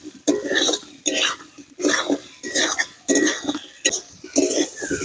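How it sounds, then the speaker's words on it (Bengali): Fish curry with spices stirred and fried in a pan, a spatula scraping and clattering against the metal in regular bursts about once a second, close up. "এবার ভালো করে মশলার সঙ্গে কষে নেব।"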